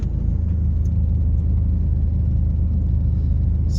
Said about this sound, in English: Tribotex treated motor starts right up.